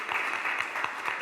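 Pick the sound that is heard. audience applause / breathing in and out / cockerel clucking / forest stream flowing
audience applause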